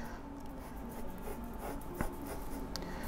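Pencil or pen scratching across paper while a phone frame is sketched, a steady soft rubbing with small strokes and one sharper tick, quiet and close, no talking.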